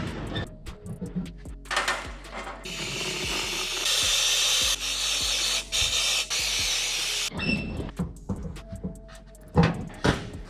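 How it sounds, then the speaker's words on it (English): A Harbor Freight powder coating gun sprays a Brembo brake caliper from a Subaru STI with a loud, steady hiss lasting several seconds, framed by clicks, clatter and handling noises before and after. "Let's pull this caliper out of the oven, spray it out, see how good this gun sprays."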